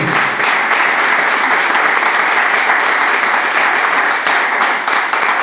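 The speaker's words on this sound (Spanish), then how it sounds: "La iglesia le pueda dar un poderoso aplauso al Señor" Loud, dense applause from a church congregation, sustained clapping filling the sanctuary at a steady level for several seconds with no talking over it.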